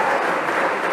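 An audience at a political event claps in a dense, steady burst of applause, loud and unbroken.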